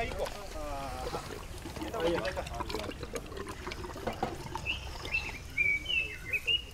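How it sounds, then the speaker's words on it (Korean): A small bird calls at an elephant orphanage, giving a few quick, thin chirps in the latter part of the clip, faint beneath people talking and trickling water. "Kidega ndio huyo yuko."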